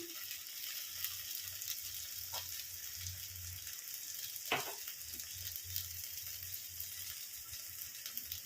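Chopped onion and tomato frying in a pan with a little oil for a simple pasta dish, a soft, continuous sizzle with faint stirring scrapes and a brief clatter midway.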